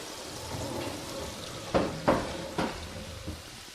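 Garlic and onion cooking in a pan for fettuccine Alfredo, a soft low sizzle underneath a few sharp utensil clinks and scrapes against the pan, no talking.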